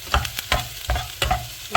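Garlic fries in hot oil in a pan, a crisp sizzle broken by about five rhythmic stirring scrapes, close and loud with no talking.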